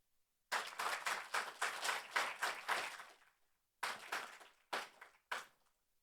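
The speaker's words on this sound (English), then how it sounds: "please give everyone, all the speakers, panelists, and guests, a big round of applause, please." Applause for speakers, panelists and guests at the close of an AI security and governance conference forum: a few seconds of brisk, moderately close clapping, followed by three short scattered bursts that fade out.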